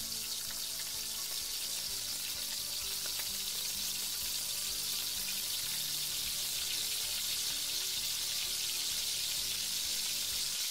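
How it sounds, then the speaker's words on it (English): An egg sizzles and crackles steadily in a hot oiled pan while making Chinese fried rice, a constant frying hiss close by with no voices. "Time to fry the egg."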